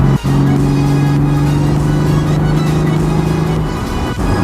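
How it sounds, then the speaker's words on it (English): Inside a car with a modified exhaust, a steady low hum and road rumble holds with no booming drone, a constant cabin sound with a faint tonal note running through most of it. "Really quiet inside the car. Like, there's absolutely no drone to it whatsoever."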